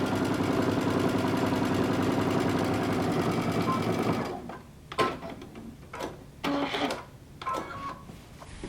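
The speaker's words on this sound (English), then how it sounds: "my other shoulder, and I'm going to stitch it the same way." A sewing machine stitches the shoulder seam of a jumpsuit in a steady, loud whir, then stops, leaving a few sparse clicks and handling knocks.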